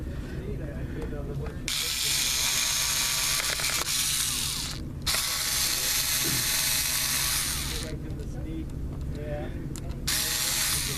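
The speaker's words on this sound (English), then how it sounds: "Now we go about taking out the screws in the system" A powered screwdriver whirs through a run of screws inside a Dell Latitude 6440 laptop, with three sustained close-up bursts separated by short pauses and faint handling noise between them.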